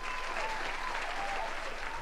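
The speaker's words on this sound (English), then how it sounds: "We gotta give Bobby Shmurda some claps." A crowd applauds as a sound effect, dense steady clapping close and fairly loud for the whole short stretch, with no voices on top.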